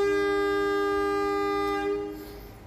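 A loud, sustained departure horn from an S35 locomotive on a Bandung Raya local train blares steadily for a couple of seconds, then cuts off, leaving faint rumbling behind.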